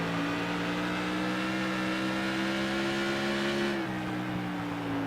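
FASTT tour race cars on track, a loud sustained engine drone that holds steady and then drops in pitch as the throttle is lifted, with no voices.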